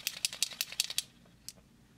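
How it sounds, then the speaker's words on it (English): A Pentouch paint marker is shaken so its metal agitation ball clicks inside the barrel, giving about ten quick, sharp, evenly spaced rattling clicks. One last isolated click follows after a short pause, close up and quiet, with no talking. "The paint is sufficiently mixed when you hear the clicking sound of the metal agitation ball inside the barrel."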